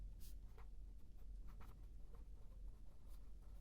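Pen or marker strokes drawing a parallel line during a geometry lesson on triangle midsegments, a soft scratching patter of short strokes close by over a low hum, with no talking.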